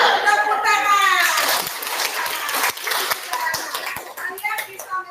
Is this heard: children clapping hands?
yes